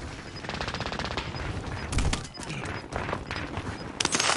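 Pistol gunfire in the Warzone video game, a dense run of rapid shots through the clip over busy game noise, with a sharper burst near the end.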